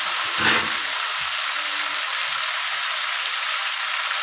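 Chopped ginger and tomato fry in a pan for chicken curry, giving a steady, even hiss like light rain that runs throughout, with a brief louder flare near the start.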